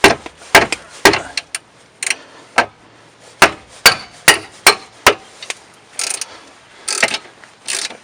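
A cheap impact wrench working on rear brake bolts of a Subaru Impreza, firing in short, loud hammering bursts separated by brief pauses, close by and with no talk.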